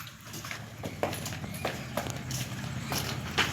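A buffalo being walked along gives a run of soft, irregular hoof thuds over a low steady background hum.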